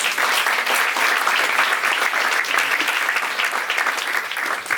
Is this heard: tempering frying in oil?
no